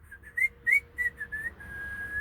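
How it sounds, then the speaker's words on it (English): A person whistles a short melodic tune alone, several clear rising and sustained notes ending in one long held tone, close and moderately loud. "So, can I whistle?"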